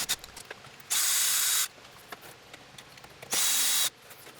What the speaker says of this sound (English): I remove the panel from below the steering wheel by removing the screws that hold it on.